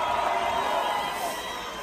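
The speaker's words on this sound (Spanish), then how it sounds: "Un aplauso para la gente que de verdad me respeta" Audience at a live concert show cheering and shouting, a dense, steady roar of many voices for a couple of seconds.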